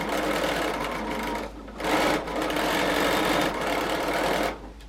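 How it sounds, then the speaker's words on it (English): A sewing machine stitches a quarter-inch seam on quilt patches in a steady, close whir that briefly slows and pauses a few times between runs, with no voices. "So we're just using a 1/4 inch seam allowance, and I'm going to sew"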